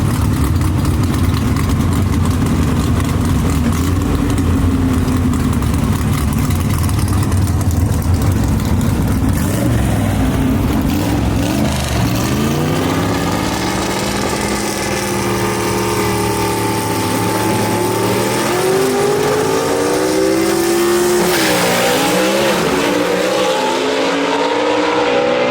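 Gasser drag race cars at Shadyside Dragway rumble loud and close, engines idling and revving in pulsing, rising and falling waves throughout, with no talk.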